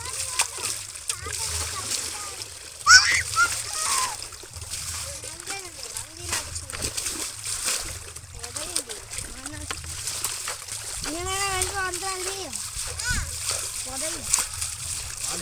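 Water poured and splashing over a cow being bathed for Pongal, irregular sloshes and splatters close by, mixed with children and adults talking throughout.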